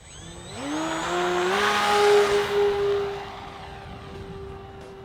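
Electric motor of a Grumman F6F Hellcat RC model plane, an H-King Reno Aces foam warbird, spools up at launch into a rising whine, holds a steady tone as it climbs away, then gradually fades.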